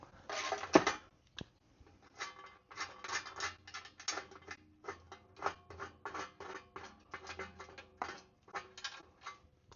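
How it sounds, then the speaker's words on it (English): A ratchet wrench with a 16 mm socket turns a bolt on a Jeep JL during a bumper install, making rapid bursts of clicking strokes with brief pauses between them, close and fairly quiet. "throw it on the ratchet real quick"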